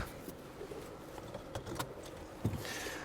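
Car seatbelts are fastened inside a car-sharing car in Moscow: a few faint clicks and rustles sit over a steady low cabin hum.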